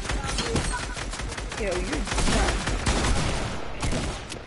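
Rapid gunfire crackles in a video game played on keyboard and mouse, dense repeated shots at close range throughout, with a voice briefly talking over the shooting.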